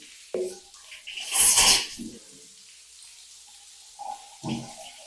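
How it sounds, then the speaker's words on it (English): Running water splashes over legs in short bursts, with a loud gush near the start, quieter spurts later and brief faint sounds in between. "Washing my legs with water."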